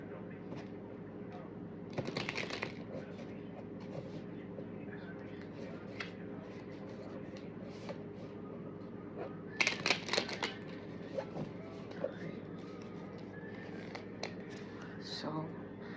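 Tarot cards shuffled by hand, soft riffling and papery flicks in bursts, with louder shuffle clatters around the middle, all under a steady low background hum and faint room noise.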